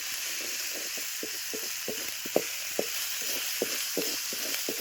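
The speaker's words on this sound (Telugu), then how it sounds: "ఇలా అయితే కొంతసేపు వరకు మనం మిక్స్ చేయాలా మిక్స్ చేస్తే మంచి టేస్ట్గా వస్తాయి గ్రేవీ అన్నది" Onion gravy stirred in a pan, a spoon scraping the bottom in regular strokes about twice a second over a steady close sizzle of frying onions, with no voices.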